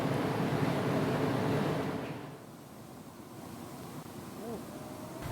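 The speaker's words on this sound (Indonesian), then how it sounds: "perahu berjenis speed diterjang ganasnya ombak pantai selatan Jawa" Rough surf of the south Java coast pounds where a small speedboat is hit by heavy waves, a dense roar that is loud at first and then eases to a steadier, softer wash with wind buffeting the microphone.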